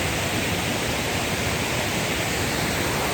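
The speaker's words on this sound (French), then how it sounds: "On est sous la cascade, la fameuse cascade qu'on a filmée hier en drone" Waterfall at Mont-Dauphin in the Hautes-Alpes heard from right underneath, a dense, steady roar of falling water that stays loud and unbroken throughout with no voices.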